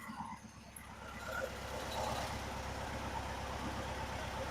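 A 1963 VW Bus engine idling after warming up for about 15 minutes, a steady low chugging rumble heard close by that grows slightly louder after the first second and then holds constant.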